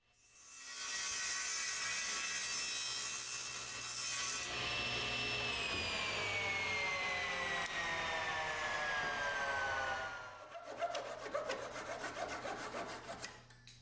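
Power saw cutting wood slab pieces to length for workbench legs and stretchers, a loud whining cut with pitch slowly falling as the blade loads, then rough rasping saw strokes once it winds down.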